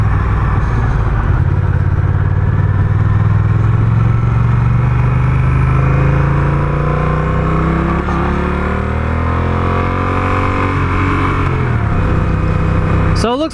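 A Honda Rebel 1100 with a dual clutch transmission runs through its gears, its engine drone rising and falling in pitch amid heavy wind rush from riding.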